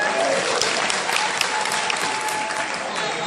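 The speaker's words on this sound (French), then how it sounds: "Est-ce qu'on peut applaudir pour la 3e année?" A live comedy crowd applauds during a stand-up set, dense and loud clapping that fills the whole stretch evenly without letting up, recorded close on a phone.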